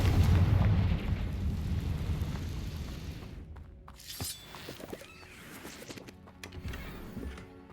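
A Confringo fire spell in Hogwarts Legacy detonates with a loud, booming, crackling explosion that rumbles and then decays into scattered debris and magical clatter.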